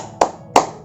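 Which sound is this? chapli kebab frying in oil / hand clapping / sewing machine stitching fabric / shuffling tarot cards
hand clapping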